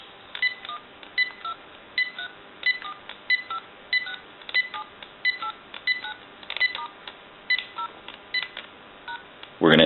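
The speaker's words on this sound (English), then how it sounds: "We're going to go ahead and dial our numbers." Touch-tone DTMF dialing on a GE 6.0 cordless telephone handset: a regular series of short, clear beeps, one per digit, evenly spaced and loud, with a brief burst of noise at the very end.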